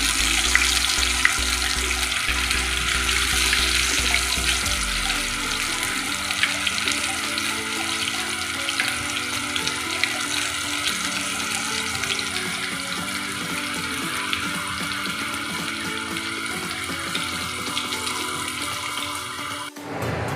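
Mangalore-style fish frying in hot oil, a continuous dense sizzle and crackle close by that holds level throughout before stopping abruptly at the end.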